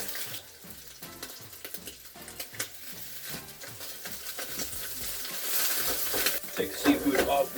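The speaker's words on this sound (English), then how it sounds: "I'm going to sear my shrimp just to get a nice caramelization on the outside" Shrimp searing in a very hot pan, with a bright sizzle that grows louder toward the end, under tool clatter and some talk.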